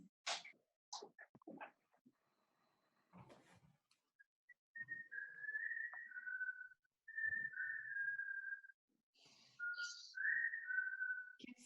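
A person whistles a sustained, wavering tune in a committee meeting room, with scattered clicks and brief noises before it; the whistling is fairly clear and moderately loud.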